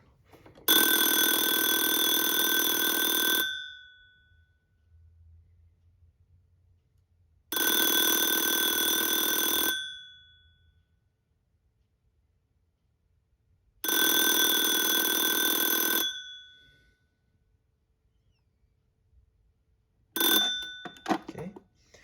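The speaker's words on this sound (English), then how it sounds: "Okay, and then the ringer. So this one sounds different." A loud Yugoslav Elektronska Industrija ATA 71s telephone bell rings in long metallic bursts, three full rings a few seconds apart, then a short final burst; quiet gaps between rings.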